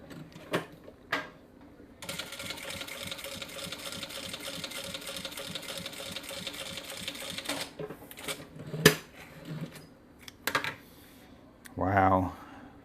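A Vevor M2 sewing machine stitches through 3.5 mm upholstery-grade leather in a fast, steady mechanical run of about six seconds, followed by a few separate clicks and knocks and a brief voice near the end.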